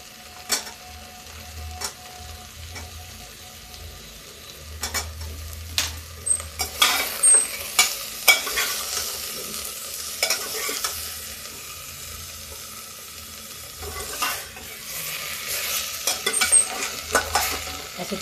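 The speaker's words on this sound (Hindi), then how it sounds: "ऐसे थोड़ी देर हम इसको भून लेंगे" Mixed vegetables with eggplant frying in a pan, a soft steady sizzle broken by repeated scraping and clattering strokes of a spoon stirring, close by with no talking.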